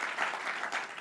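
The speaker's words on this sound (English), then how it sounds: "Can we give them another round of applause," Brief burst of audience applause at a Cook County quantum park announcement, dense clapping with slight surges, steady and close.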